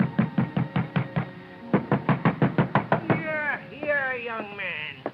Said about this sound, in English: ringing his bell and pounding on his door got me nothing